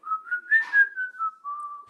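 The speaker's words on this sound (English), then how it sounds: "the way you can kind of get the different overtones to the jaw harp is really similar to when you're whistling" A single clear whistled tone, wavering in short pulses and gliding slightly in pitch, close and alone.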